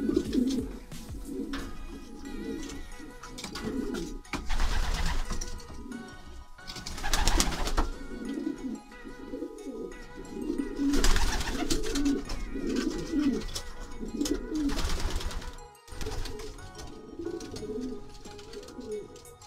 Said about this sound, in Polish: Jesteśmy w gołębniku przy tych starych celach.